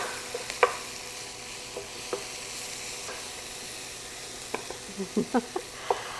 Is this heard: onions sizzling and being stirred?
yes